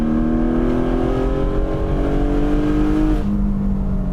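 A Porsche 718 Spyder's 565 hp naturally aspirated 4.5-litre engine revs hard and close, its pitch climbing steadily in a smooth, loud roar before dropping back slightly near the end.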